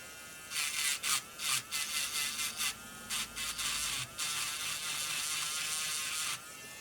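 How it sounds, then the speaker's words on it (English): A small handheld electric grinding pen cleaning the contacts of a broken double plug socket, a high buzzing whir in short repeated bursts, then a longer steady run, close by. "give that a little tickle with my grinding pen"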